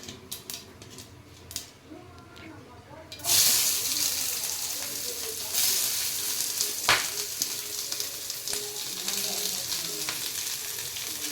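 Onions tipped into hot oil in a pan for egg rice: quiet clinks and handling at first, then a sudden loud burst of sizzling that settles into steady, close frying for several seconds.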